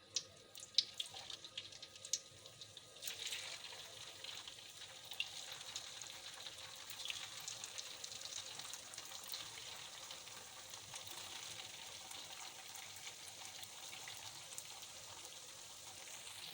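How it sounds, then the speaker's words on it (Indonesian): Steady, loud crackling and hissing of risoles frying in hot oil, a continuous bright sizzle that jumps in intensity after a few seconds and holds. "Selanjutnya kita goreng di minyak yang panas."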